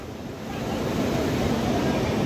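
Sea waves wash in at a beach, a continuous low rushing surf that swells slightly, mixed with wind buffeting the microphone.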